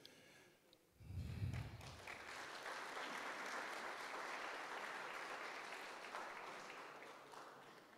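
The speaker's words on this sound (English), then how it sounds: "Shall we give him another round of applause, ladies and gentlemen?" Audience at a Baptist church gathering breaking into applause for a student, a sudden swell of many hands clapping that holds steady and then tapers off.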